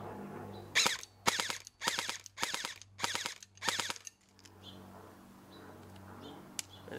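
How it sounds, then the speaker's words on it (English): A G&G CM16 airsoft rifle, battery-powered with a 7.4 LiPo, fires full auto in six short close bursts of rapid buzzing shots, separated by brief pauses, then falls quiet. "And then here's full auto."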